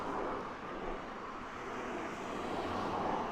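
F-15 fighter jet passing overhead near an airbase, a steady broad roar of engine noise with some wind rush, fairly loud and sustained throughout without any voices.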